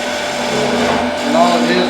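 A woodturner's drill, an old machine with its top wing removed for making boxes and cutting end grain, whirs steadily and close in a woodturning guild workshop.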